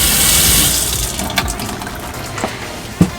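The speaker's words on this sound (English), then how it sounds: "it is also fully functioning with running water, with a fully functioning sink" Water gushes steadily from a tap into a sink inside a Sprinter camper van, loud at first and then easing, with a few small knocks and clicks.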